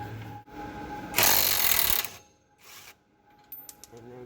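A pneumatic impact gun with a 17mm socket rattles a bolt loose on a 1992 Nissan 240SX during a coilover install: one loud, close burst of about a second, followed by quieter clicks and handling noise.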